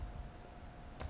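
A short burst of typing on a computer keyboard while entering a name into a PHP form, a few quick clicks near the end after a quiet pause.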